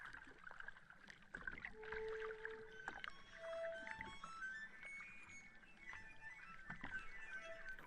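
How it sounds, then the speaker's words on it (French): Water sloshing and lapping gently, like a paddle or small boat moving through it, soft and continuous with scattered bright tones and faint drips. "Avec les bruits de l'eau?"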